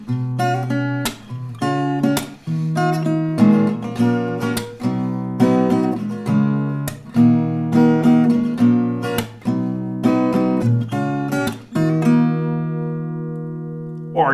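Acoustic guitar freestyling on a song, played alone with steady strummed chords and plucked melody notes in a loose, lilting rhythm, ringing out and fading at the end.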